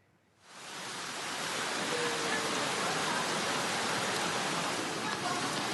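Heavy, high-intensity rain pours in Cimanggis, Depok, West Java, during flooding, a dense steady hiss that rises in the first half-second and then holds evenly.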